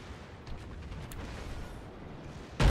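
Secondary guns on a battleship in World of Warships keep up a rumbling barrage of steady, muffled booms, ending in one loud, heavy blast that lands close by.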